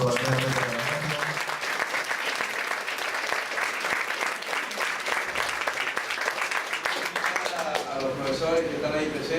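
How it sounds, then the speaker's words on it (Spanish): An audience at a 2017 Beauty Technology university conference applauds after a certificate is presented for an excellent talk: steady, moderately loud clapping from a room of people that holds throughout. "Un aplauso para"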